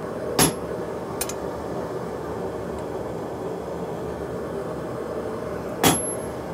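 Two sharp, loud metallic strikes of a hammer on a chisel against hot steel while forging hooks, several seconds apart, with one fainter tap between them over a steady low background hum.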